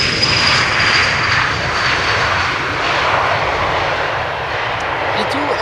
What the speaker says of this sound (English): E2 Embraer just landed